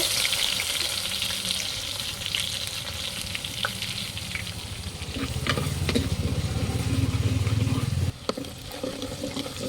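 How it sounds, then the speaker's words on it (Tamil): Garlic added to hot oil with mustard and fenugreek seeds, cooking over a wood-fired stove for a dried-fish curry, crackles and sizzles loudly and steadily, with stirring scrapes and a louder bubbling surge near the end. "கடுகு வெந்தயம் நல்லா பொரிஞ்சிருச்சு இப்போ வந்து பூண்டு சேர்த்துப்போம்"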